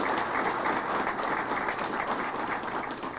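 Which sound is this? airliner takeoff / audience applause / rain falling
audience applause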